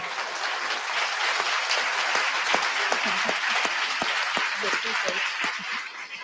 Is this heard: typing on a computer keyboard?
no